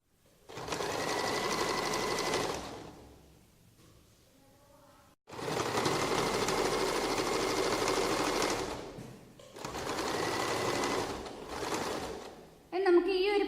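Sewing machine stitching piping onto the side of a yoke-neck kurti, running in three steady bursts of a few seconds each with brief stops between, and a faint voice near the end.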